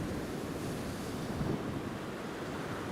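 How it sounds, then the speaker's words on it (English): Storm Eowyn gusts roar across Newcastle Airport, a dense, steady wash of rushing wind noise buffeting the microphone throughout, with no voices. "So like I say, folks, it's pretty windy."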